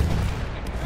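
A field gun firing in a video game, a short, heavy, booming blast that fills the brief moment up close.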